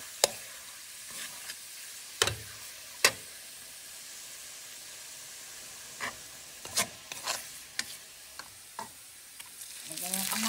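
Garlic sautéing in butter in a pan for garlic buttered shrimp, a faint steady sizzle with scattered sharp scrapes and clinks of a utensil stirring, growing louder toward the end.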